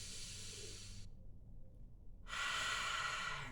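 A slow, deep breath drawn in and released for stress relief, with a long breathy inhale, a quiet pause, then a louder, steady hissing exhale, close and alone.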